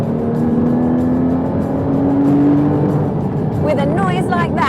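A 2015 Porsche Cayman GT4 engine revs in a loud, smooth rising drone as the car accelerates, with a shift near the end, a voice talking over it throughout.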